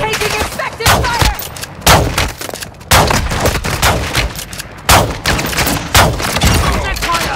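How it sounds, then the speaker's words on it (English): Bursts of gunfire in Call of Duty Warzone on Ashika Island, loud close shots and volleys repeating every second or so, with in-game radio callouts mixed in. "Taking effective fire!"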